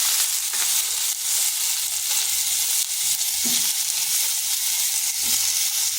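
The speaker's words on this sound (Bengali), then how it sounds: "এরপর আলু পটলকে বেশ কিছুক্ষণ ভেজে নিতে হবে।" Potatoes and pointed gourd fry together in a pan, giving a loud, dense, continuous sizzle close up, with soft occasional stirring bumps underneath.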